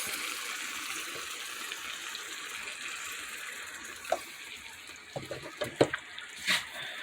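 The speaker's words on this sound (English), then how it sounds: "I'm going to add some more of the beef broth" Beef broth poured into a cooking pot, a soft continuous liquid trickle and splash heard close, followed by several brief clinks and splashes near the end.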